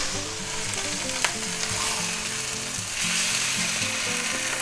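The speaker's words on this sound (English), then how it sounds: "let that cook maybe for 2-3 minutes until that hamburger softens a little and defrosts" Ground beef in a pan, a frozen hamburger block defrosting while it cooks for a spicy stir fry, sizzles and crackles continuously and close up, with a few brief clinks and stirring scrapes.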